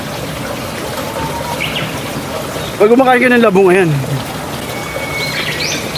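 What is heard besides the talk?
birds calling by a river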